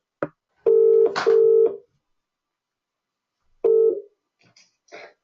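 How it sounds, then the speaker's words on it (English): A telephone is dialed to place a call: short, loud electronic tones, a couple of long held tones and then another tone after a pause, ending in faint higher blips. "I'm just going to try and get her on the phone for you"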